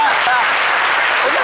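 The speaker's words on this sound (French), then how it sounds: "Applaudissez un peu pour moi" Brief burst of studio audience applause on a live midday TV show, steady clapping throughout with a voice faintly audible over it.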